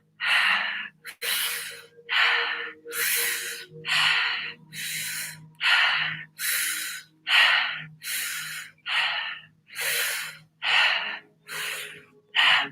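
Deep breathwork breaths, about a dozen strong, rhythmic inhales and exhales through the nose and mouth at a steady pace, close and loud, with a faint tone behind them and no talking.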